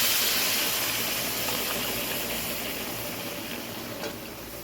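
Chicken curry with ginger-garlic paste and green chillies simmers in a pot after water is poured over the fried spices, giving a steady broad hiss and bubbling that fades slightly over time, with no voices.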